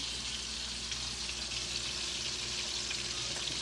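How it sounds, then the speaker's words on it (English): Stuffed pork chops fry in a pan with a steady, dense sizzle that holds at an even loudness throughout, with no talking. "So they're frying down now."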